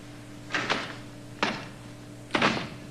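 A door sound effect in a 1940s-style radio play of A Christmas Carol. Three separate thunks and knocks come at steady gaps, close by and moderately loud, with no voices.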